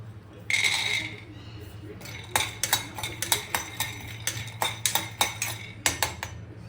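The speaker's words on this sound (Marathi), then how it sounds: "आता या सेम आपण वेसलमध्ये हे पीनट्स रोस्ट करून घेऊया" Peanuts being dry-roasted in a metal vessel clatter and clink in quick, irregular bursts as they are stirred and tossed, close by, with a low steady hum in the background and a voice talking over part of it.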